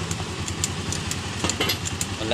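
A motorcycle engine with a suspected faulty stator or charger idles in a steady, rapid low putter, close and fairly loud, with small irregular bumps in its rhythm.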